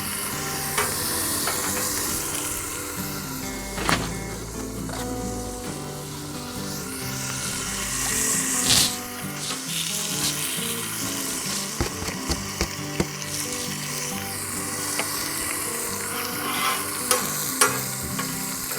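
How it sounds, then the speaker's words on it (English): A mushroom Swiss smashburger cooks on a Blackstone griddle, giving a steady close sizzle and frying hiss with scattered scraping and clinking clicks from a spatula throughout, no voices. "Let that burger cook."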